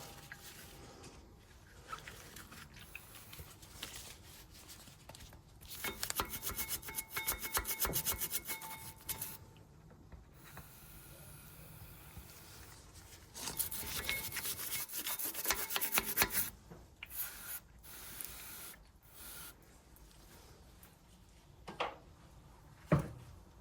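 Brake parts on a Mercedes S-Class W221 S350d are scrubbed with a brush, giving rough, close rasping strokes in two long sustained bouts and shorter scrapes, with quieter handling noise between them.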